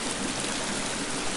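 Loud, rushing stream water in the survival game The Forest, a dense continuous hiss and roar that fills the whole moment, close and steady with no other sounds.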